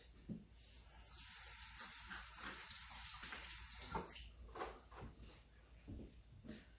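Apple is rinsed under a running kitchen tap, with a steady water stream splashing for a few seconds before breaking into intermittent splashes and drips.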